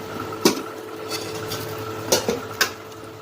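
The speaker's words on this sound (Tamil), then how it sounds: "நம்ம குக்கர் ஓப்பன் பண்ணி பார்க்கலாம்." A pressure cooker of cooked bean curry is opened, bringing a few sharp metallic clanks of the lid and vessel over a low steady kitchen hum.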